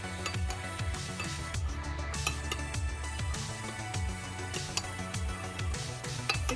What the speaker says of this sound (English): I'll add just a little bit of turmeric powder, and then I'll stir everything up together